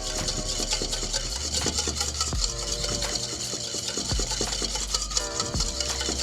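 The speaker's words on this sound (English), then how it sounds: "So I am whisking this together. I'm adding my oil." A whisk beats mustard vinaigrette in a bowl while oil is added, making a steady, rapid scraping and clicking that runs without a break the whole time.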